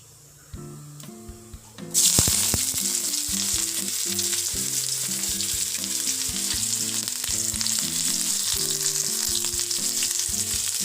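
Chopped shallots hit hot oil already popping with mustard seeds, and a loud, dense sizzle bursts up about two seconds in. It then stays as a steady, close crackling hiss with scattered pops.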